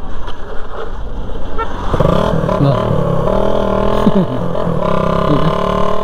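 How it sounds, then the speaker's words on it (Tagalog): A Raider 150 motorcycle engine catches as the clutch is let out in first gear, a steady loud running rumble settling into a harmonic idle after a rough start, with revs wavering near the end. "Ito po ang second method ng pag-on ng motor kahit hindi nyo i-start. Kaya ilagay nyo lang sa first gear, i-release nyo."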